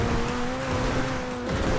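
A car in GTA 5 is driven fast, a steady loud engine roar with a sustained tonal whine throughout the short burst and no talking.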